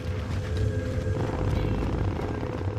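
Helicopter in a video game, a steady loud rotor drone and engine rumble close by, holding continuously with no talk over it.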